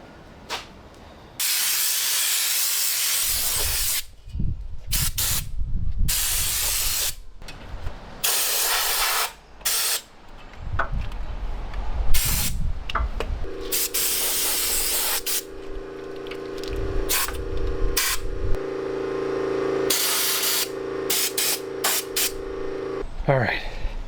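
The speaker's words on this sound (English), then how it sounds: "I have this fancy gun and I'm spraying like" Spray gun applying rust proofing coating to the underside of a lowered 4x4 Sierra pickup truck, loud hissing bursts repeating in short and longer blasts, with a compressor-like hum and someone talking between sprays.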